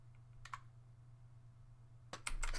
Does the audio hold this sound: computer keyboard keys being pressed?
yes